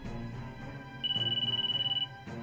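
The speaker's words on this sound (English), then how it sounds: "Crystal, your phone is ringing." A phone rings in the video game Disgaea 5: Alliance of Vengeance, a single steady electronic trill lasting about a second over soft background music, with no talking.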